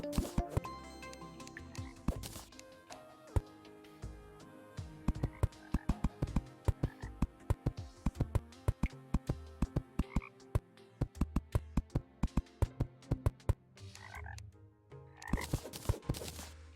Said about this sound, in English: Love the frog noises.